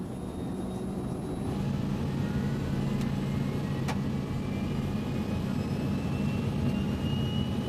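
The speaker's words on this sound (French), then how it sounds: "L'avion a commencé à rouler, à accélérer, et on est arrivé à ce moment où on sent qu'il prend la vitesse nécessaire pour décoller." A fixed-wing passenger airliner accelerates down the runway for takeoff, with a steady, loud, broadband engine and rolling roar that holds throughout.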